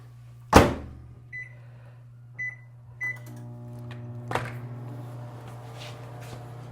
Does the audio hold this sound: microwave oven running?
yes